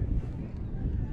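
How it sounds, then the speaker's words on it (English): Gusting, swirling wind at an outdoor sports field during a U23 world championship game, a low steady rumble of microphone buffeting that continues without a break. "Wind starting to pick up"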